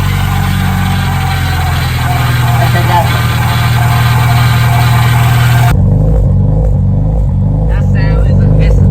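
A JDM B16A engine in a Honda Civic hatchback revs with a rough, stumbling hesitation, its steady idle drone broken by uneven pulses. A loud hiss stops partway through, and the engine runs close and loud.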